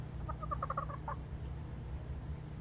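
Backyard chickens on a small city farm give a quick run of soft clucks, close but fairly faint, over a steady low hum of background noise.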